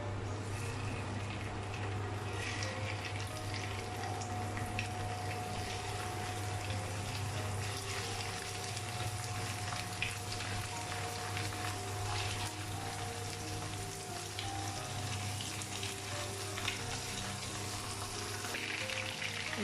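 Chicken 65 pieces fry in hot oil with a continuous, even crackling hiss over a constant low background hum, and no voices or sudden changes.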